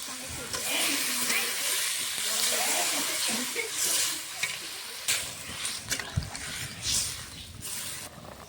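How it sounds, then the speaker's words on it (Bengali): A vegetable curry with potatoes bubbles in a pot, giving a soft, steady hiss of simmering and steam with scattered pops and small knocks. "তরকারিটা ফুটে উঠেছে"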